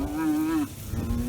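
Cattle being turned out on a farm give a loud, close drawn-out moo that ends abruptly, followed by the start of another lower call.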